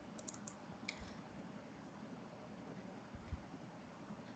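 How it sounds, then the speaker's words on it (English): Soft, quick keystrokes on a computer keyboard patter faintly and irregularly over a low hum, with no one talking. "What are you typing there, Wafer?"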